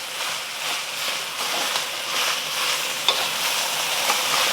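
Rice frying in a hot pan gives off a steady, dense sizzle with faint scraping of stirring, close and continuous, with no voices.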